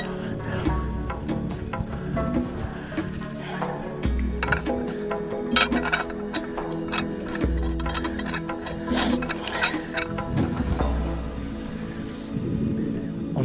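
A metal shackle is fitted to a winch cable and a tree protector strap, giving scattered metallic clinks and rattles close by, with a voice talking over parts of it.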